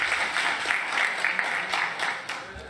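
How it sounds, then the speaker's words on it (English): Audience applause at the grand opening of an Alienware gaming lab, a steady wash of many hands clapping for a few seconds that thins out toward the end. "one more clap for Alienware"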